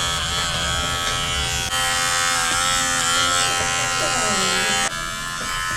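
An electric 5-in-1 clipper buzzes steadily and close up while grooming a Cavalier King Charles Spaniel, running unbroken through the whole stretch with faint voices underneath.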